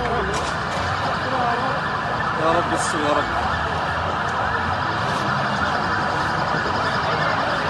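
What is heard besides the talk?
fire engine siren arriving at petrol station fire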